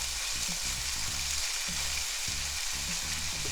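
Pork loin searing in a hot pan sizzles loudly and continuously, with low rumbling bumps from the pan and no voices.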